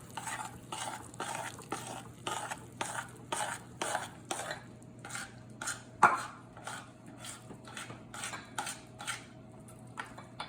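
Flour being stirred into a mixture in a bowl, with a steady run of soft scraping strokes against the sides and one sharper clink partway through, no talking.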